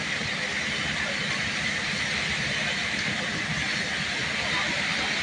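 Fire hoses spraying water at a burning warehouse in Balut, Tondo, Manila, a steady broad hissing rush heard continuously, with people talking underneath.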